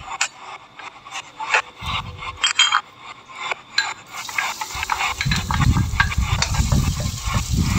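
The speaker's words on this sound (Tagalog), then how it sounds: "maglalagay na po tayo ng sesame oil sa mainit na kawali" Sesame oil heats in a hot pan: sharp clanks and scrapes of utensils at first, then a louder rough sizzle swelling up over the last few seconds.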